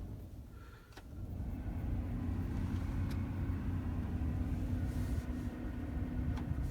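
The AC/heat blower motor of a Chevy Express van spins up after the ignition is switched on, a low steady whooshing hum building within a second and holding evenly, fairly quiet inside the cab.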